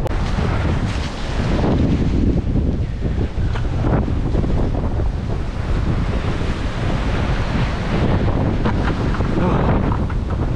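Storm wind over the ocean batters the microphone with a loud, continuous roaring rush, while surf and waves churn underneath in uneven surges for the whole stretch.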